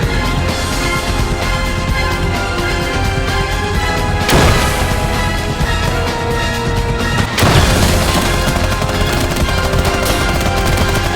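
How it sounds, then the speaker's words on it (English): Grenade explosions and gunfire in the Army Men toy-soldier war game, dense constant shooting broken by two heavy booming blasts, loud and close with no talk. "I'm gonna throw a couple grenades in there."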